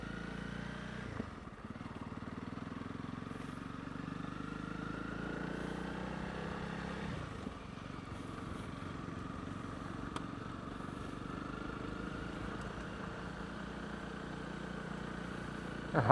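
A motorcycle rides up Nuwekloof Pass in South Africa with a steady, unbroken engine drone and wind rush throughout, holding an even level for the whole stretch with no talk over it.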